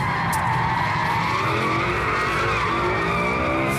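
A BMW M6 V10 engine roars steadily under a short burst of throttle as tires squeal through a turn, loud and continuous throughout with no pause.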